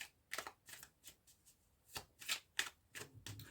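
Tarot cards drawn from a deck give a quiet, irregular series of short papery slaps and flicks, about a dozen brief bursts close by with soft pauses between, and no voices.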